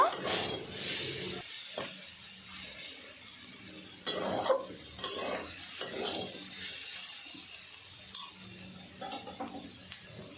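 Potato greens frying in oil in a pan, stirred with soft scraping and rubbing strokes over a steady sizzling hiss, with a few louder clatters midway.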